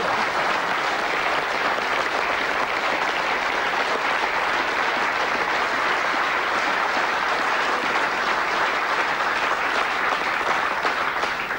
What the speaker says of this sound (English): Terrific, unanimous applause as well.